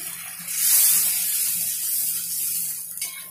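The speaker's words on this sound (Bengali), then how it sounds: "জল দিয়ে দিচ্ছি।" Water pours steadily into a pan of cooked spice paste for a Bengali catfish curry. It makes a continuous close rushing splash that lasts about three seconds, with no voices.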